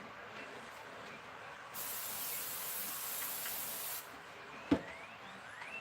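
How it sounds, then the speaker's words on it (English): Cooking spray hisses from a can in one steady burst of about two seconds in a quiet kitchen, followed by a sharp knock. "Spray."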